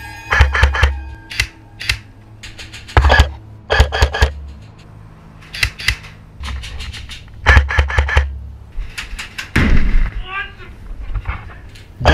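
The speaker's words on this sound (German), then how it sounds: "Das, was ihr gerade gehört habt, war eine Airsoft-Granate" An airsoft grenade goes off during close-quarters urban airsoft play, among a series of sharp, loud pops and bursts scattered irregularly over several seconds, with voices in the background.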